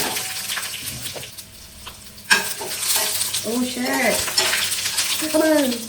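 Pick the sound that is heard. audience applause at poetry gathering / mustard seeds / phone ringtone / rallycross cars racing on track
mustard seeds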